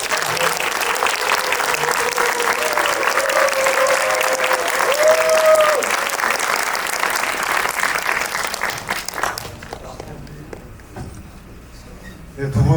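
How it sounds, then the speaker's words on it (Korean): Audience applause welcoming two film directors to a post-screening talk for the film King of Kings, steady and fairly loud clapping from a full indoor crowd for about nine seconds before fading to near quiet. "큰 박수로 맞이하겠습니다"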